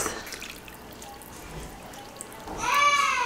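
Runny homemade gravy pours over a dish in an oven-bound dinner, a soft liquid trickle and drip that swells into a louder gush near the end, close by with no talking.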